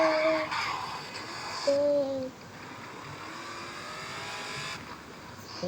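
A car engine drones steadily up close, its pitch rising and falling with changes in speed, with no talk over it.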